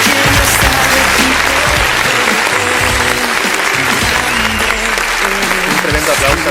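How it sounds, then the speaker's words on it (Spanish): A congregation at a Christian worship gathering applauds in dense, steady clapping that fills the whole stretch, with sustained musical tones and faint voices running underneath. "Un tremendo aplauso a nuestro Señor"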